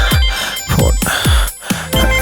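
A phone rings with a loud, repeating electronic ringtone, close and continuous, its bright pulsing tones recurring roughly every half second with sharp swooping notes.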